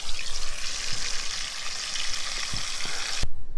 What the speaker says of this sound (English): Oh, sizzle, get the sizzle going.